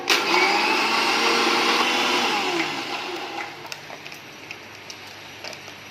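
An electric grinder blends cold coffee from coffee powder, Dairy Milk chocolate, milk and small ice pieces. It gives a loud, steady whirring roar for about two and a half seconds, then winds down to a faint hum with a few light ticks.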